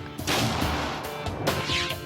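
A cannon mounted on a pickup truck fires a ball with a loud blasting boom that rolls on, followed shortly by a second heavy burst.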